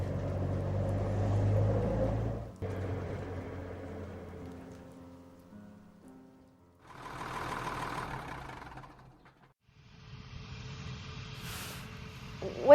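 An airplane engine sound effect in a radio drama at a flying field drones steadily and loudly, fading down, then swelling again with a rough propeller rumble, with no voices.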